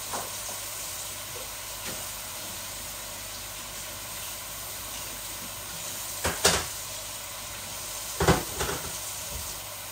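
Dried kachki fish shutki frying in a pan gives a steady low hiss, with two sharper, louder bursts of sizzle and scraping near the end.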